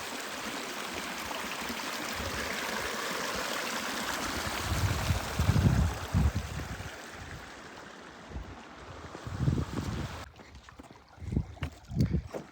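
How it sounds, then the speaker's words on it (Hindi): A mountain stream flows beneath stones along a hiking route between lakes, giving a steady rushing wash with occasional gusts and rustling handling noise close to the microphone. "इनके नीचे से पानी जा रहा है, काफ़ी ज़्यादा पानी है"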